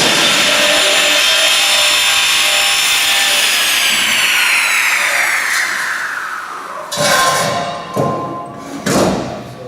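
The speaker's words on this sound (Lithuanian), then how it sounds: "O pats pjovimas vyksta labai paprastai." A saw in a furniture workshop cuts through a furniture panel with a loud, whining, descending tone, then winds down into a few thumps and short bursts as the cut finishes.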